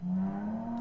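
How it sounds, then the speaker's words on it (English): A loud car passes outside, its low engine drone steady and close for a brief moment. "fucking loud-ass car outside"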